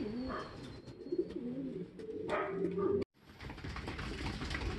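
Pigeons coo in soft, repeated calls close by while eating, with light scuffling and shuffling noises mixed in; no one speaks.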